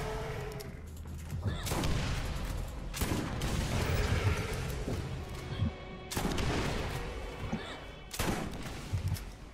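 Dense, continuous video-game gunfire in modded Borderlands, with overlapping rapid shots and booming impacts forming a loud sustained barrage broken by a few sharper bursts.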